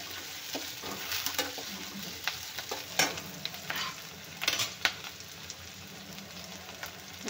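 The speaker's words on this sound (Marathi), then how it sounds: "तर हे बघा छान भाजत आहे कांदा" Chopped onion and whole garlic cloves fry in a pan for a soy chunk gravy, giving a steady close sizzle broken by frequent spoon scrapes and clinks as they are stirred.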